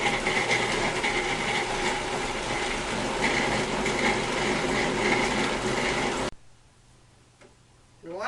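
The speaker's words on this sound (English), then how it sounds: "Put it back in the food processor." Food processor kneading bread dough, a loud, steady motor whir with rhythmic ticking knocks for about six seconds before cutting off abruptly, leaving near silence and a faint rising tail.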